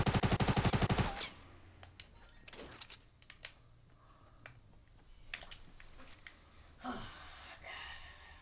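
Fortnite assault rifle (SCAR) fire opens with a rapid loud burst of automatic shots, then gives way to quieter scattered in-game clicks, snaps and distant pops.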